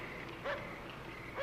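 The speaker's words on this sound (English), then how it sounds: "It's a dog barking at someone." A dog barks at a farm, two short bursts heard from a distance, faint and spaced about a second apart.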